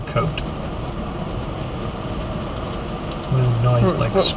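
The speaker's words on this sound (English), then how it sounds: "Noise like spring rain." An automatic car wash sprays clear coat over a car, a steady hissing patter like heavy rain drumming on the roof and windows, heard from inside the vehicle.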